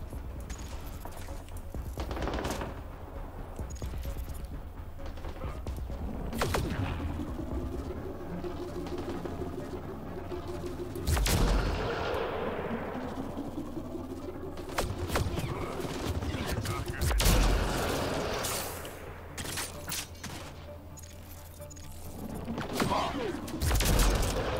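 Gunfire in the sci-fi shooter Mass Effect Andromeda, with repeated sharp shots, bursts and heavy thuds scattered over a continuous combat din, punctuated by several louder impacts, while someone talks through much of it.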